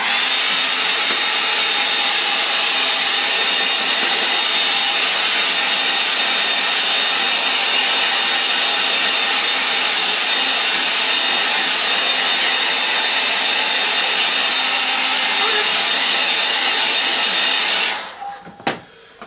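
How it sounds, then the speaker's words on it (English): A hair dryer blows steadily and loudly on wet paint on a snow scene painting, a continuous close whoosh that holds for most of the stretch before cutting off near the end. "I'll give that a dry."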